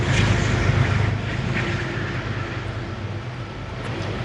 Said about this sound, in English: just gonna wait for the train.